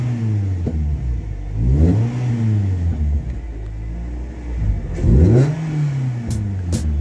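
A 2.0 Duratec engine in a Ford Fiesta ST Mk6 cranks and catches, then runs with loud close revs rising and falling, two clear throttle blips over a steady idle rumble.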